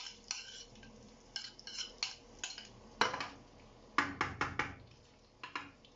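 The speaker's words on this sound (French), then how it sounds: "On va continuer à mélanger." A utensil stirring food cooking in a pan, giving irregular clinks and scrapes against the metal in short clustered bursts, close and fairly quiet.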